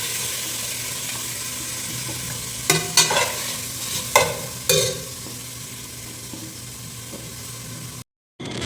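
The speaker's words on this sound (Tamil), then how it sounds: "ஸோ ஸ்லைஸ் மாதிரி கட் பண்ணியாச்சு. வெங்காயம் போட்டுக்கலாம்." Sliced onions frying in a pan for Tamil Nadu style mutton dum biryani, a steady close sizzle with a few louder clatters and scrapes of stirring in the middle, cutting briefly to silence near the end.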